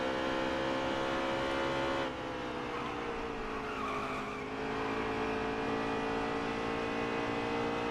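Roaring NASCAR stock car engine from NASCAR Heat 3, a loud, steady drone that dips briefly as if lifting for a corner, then holds at full speed with no talk.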